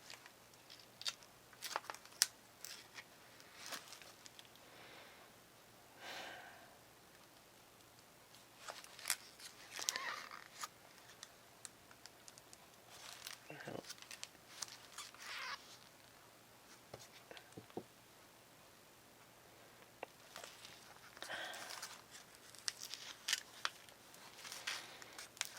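Scissors snip through a 5 by 7 inch photo print in short, quiet, scattered cuts and rustles of paper close to the listener, separated by pauses, with no talking.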